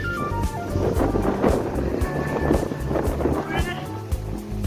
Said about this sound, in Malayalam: മൊത്തത്തിൽ കാറ്റാണ്